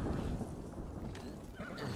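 A horse whinnies in the video game Ghost of Tsushima, with hoof clip-clops over a dense, low in-game ambience.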